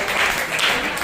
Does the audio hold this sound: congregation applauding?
yes